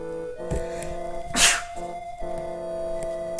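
A single sharp sneeze bursts out about midway through, close and fairly loud, set against steady music and sound effects from a Golden Sun: The Lost Age video game session.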